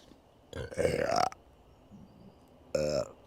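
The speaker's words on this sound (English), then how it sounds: "Oh, I'm going to belch now." Two loud, drawn-out belches close to the microphone, the first long and rumbling, the second shorter, separated by a quiet pause.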